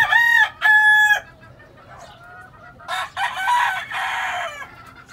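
Claret gamecock roosters crow loud and close, with two strong crows at the start, then softer clucking and a longer, raspy crow. Brief talk mixes in faintly.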